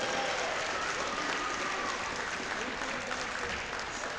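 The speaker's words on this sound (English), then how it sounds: "One more round of applause for Bradley Trofer." A crowd at a high school wrestling meet applauds steadily, a dense and even wash of clapping that holds for several seconds across a large gym, with no talk over it.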